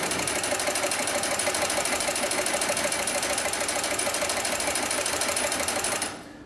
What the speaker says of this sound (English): And now we'll sew forward again.